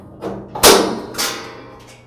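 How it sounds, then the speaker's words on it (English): Lower door of a Char-Broil Tru-Infrared gas grill pulled free of its spring hinge: a soft knock, then a loud metallic clank and a second lighter clatter, close by and fading. "I'll push up this hinge and the door will come free."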